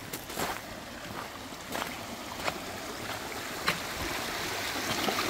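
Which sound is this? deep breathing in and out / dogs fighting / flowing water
flowing water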